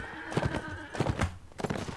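A horse in the medieval combat game Mount & Blade lets out a few whinnying bursts over clip-clop hoofbeats amid battle noise, fairly faint and close.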